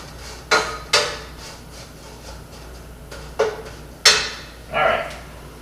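Ground beef stirred in a pan with a utensil, giving five or six separate scraping knocks against the metal at irregular intervals, close and fairly loud against a quiet kitchen background.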